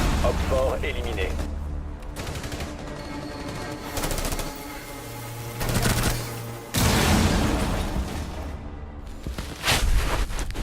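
Rainbow Six Siege match in which a grenade kill lands amid dense in-game gunfire, with bursts of automatic fire, booming impacts and mechanical clatter running nearly continuously at high volume.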